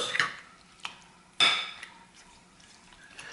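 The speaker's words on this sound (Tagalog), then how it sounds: "So, haluin lang natin ito" Chicken inasal marinade stirred in a bowl, a few sharp utensil clinks and scrapes against the container over a quiet background, with one louder knock in the middle.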